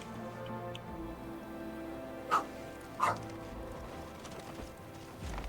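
An old dog barks twice in Pathfinder: Wrath of the Righteous, two short, sharp woofs close together in the middle, over a low, steady game ambience.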